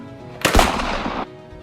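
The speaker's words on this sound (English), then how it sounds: "I'm gonna shoot this gun." A Nerf blaster fired once, a sharp close pop followed by a short burst of whirring noise that cuts off abruptly, with quiet background around it.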